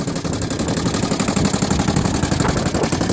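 A Kawasaki KLF ATV engine idles close by with a loud, rapid, rattly exhaust putter, steady and continuous.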